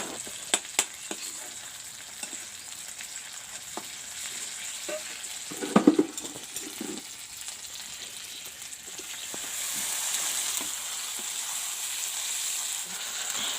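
Snail and potato curry sizzles in a pan as curry masala goes in, a steady frying hiss with a few sharp stirring knocks near the start and midway, growing a little louder toward the end.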